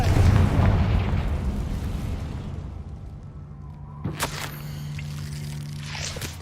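A Confringo fire spell explodes in Hogwarts Legacy with a loud low boom that swells and rolls off, followed by a sharp crackling burst near the end over a steady game rumble.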